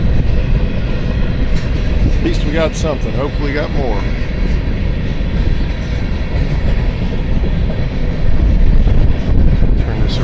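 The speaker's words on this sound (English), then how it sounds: "this is the first train I've seen" A freight train rumbles past on a windy day, a steady loud roar with faint clickety-clack and wind buffeting throughout, while someone talks over it.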